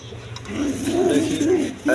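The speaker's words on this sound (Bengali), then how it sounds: "দেখেন দশমী এখানে এক পেয়ার কবুতর আছে।" Domestic pigeons, a Loton pair among them, coo softly in a loft at a pigeon farm, a low rolling murmur that swells through the middle and ends with a louder burst, with faint background noise.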